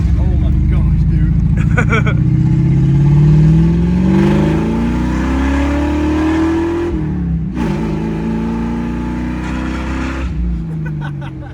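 A cheap Ford Mustang drift car's engine, burning oil, starts and revs loudly and close by, with pitch rising and falling through long pulls, under people talking.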